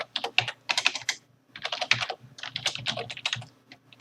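Fingers type on a computer keyboard in quick bursts of close, crisp key clicks, with a short pause near the middle before a second flurry of taps; no one speaks.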